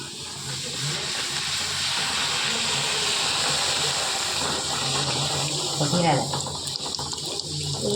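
A puri deep-fries in hot oil with a loud, steady, steamy hiss that bubbles up more vigorously toward the end, with a voice murmuring underneath.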